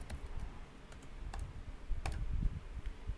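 Scattered keystrokes on a computer keyboard while cancelling and entering commands in an Nmap scan, a few sharp clicks over low background rumble, moderately near and fairly quiet.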